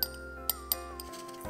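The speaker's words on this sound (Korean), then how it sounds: "얼음 조금 넣고" Ice cubes drop into a glass for a mint lime drink, giving a few sharp, bright clinks over a steady low hum, close and fairly quiet.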